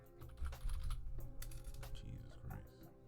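Fast, uneven clacking of keys on a computer keyboard, close and busy, with a faint voice in the background.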